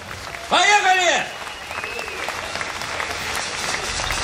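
Audience applause fills a jazz concert at the Koktebel Jazz Party 2017, starting with a loud rising-and-falling whoop or whistle from the crowd, then settling into steady, dense clapping that carries on to the end.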